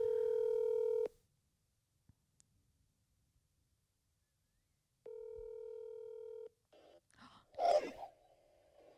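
A telephone places a call, with two long steady ringing tones separated by silence, followed by soft handling noises and a short breathy sound at the end.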